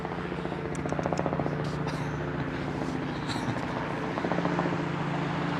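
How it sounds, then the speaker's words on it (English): A helicopter flies near Heathrow Airport, its rotor chop pulsing steadily and fairly close as a continuous drone holds throughout, with a slight rise in loudness midway. "Scary copter."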